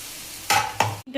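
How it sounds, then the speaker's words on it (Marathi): Water hits a sizzling fenugreek and brinjal curry with ground peanuts, two quick loud hissing bursts close by, then a sudden drop to quiet. "आणि आता थोडंसं पाणी टाकायचंय"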